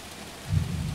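Heavy rain during an early morning thunderstorm, a steady wash of rainfall with a low rumble of thunder swelling up partway through, fairly loud and without voices.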